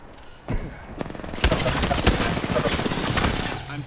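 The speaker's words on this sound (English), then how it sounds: "I'm taking fire." Rapid, close gunfire in the Apex Legends video game, starting with scattered shots and building into a dense, continuous volley of cracks.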